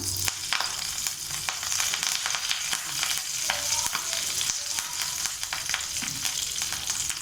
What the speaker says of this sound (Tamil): எண்ணெய் காஞ்சதும் நம்ம கடுகு போட்டுக்கலாம். கொஞ்சமாக கருவேப்பிலை கொஞ்சமாக போட்டுக்கலாம்.